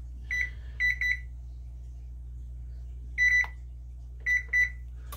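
An oven timer gives short electronic beeps in quick pairs and triplets as it is set, close and clear over a low steady hum, separated by quiet gaps.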